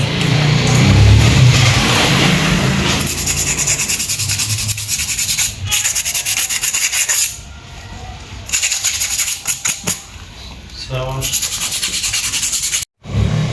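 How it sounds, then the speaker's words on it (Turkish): Sandpaper rubs against a metal scooter clutch in a steady, loud scraping with brief pauses and rhythmic strokes, close up. "Debriyajımızı iyice zımparaladık."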